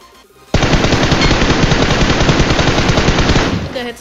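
A battle royale video game erupts in sustained, loud automatic gunfire, a dense rapid burst lasting about three seconds before cutting off, with no talking over it.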